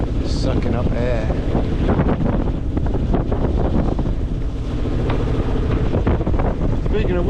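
Steady wind roars across the microphone aboard a small Twister sailboat, the Draig Y Mor, with water sloshing against the hull in choppy conditions; the broadband rush stays loud and continuous throughout.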